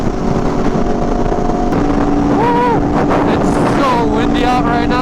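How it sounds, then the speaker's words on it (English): Strong gusting wind buffets the microphone outdoors in remote hills, a loud continuous roar filling the clip, with faint voice-like tones drifting through. "Windy out right now."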